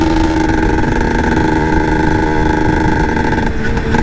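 Yamaha TZM two-stroke motorcycle engine running steadily at close range with its power valve engaged, a continuous buzzing drone with slight stutters and wavering, no speech.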